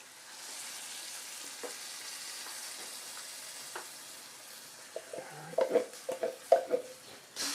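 Crushed tomatoes from a 28-ounce can simmer in a pan with a soft bubbling sizzle. Near the end, louder scraping and stirring strokes from a utensil against the pan come in irregular bursts.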